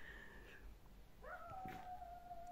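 A dog whines softly in a few drawn-out, wavering tones, faint and fairly close in a quiet, snowy village outdoors.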